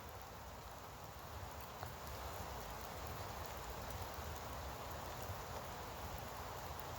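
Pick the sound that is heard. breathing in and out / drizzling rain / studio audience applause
drizzling rain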